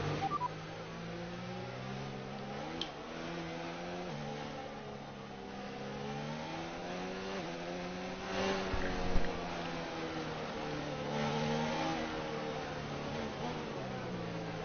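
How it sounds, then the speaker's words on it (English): A Formula One car engine in the video game F1 2019 hums and whines steadily, sounding old rather than fresh, pitch rising and falling as it revs and shifts, a continuous mid-level drone with no talking. "It don't sound like a fresh engine."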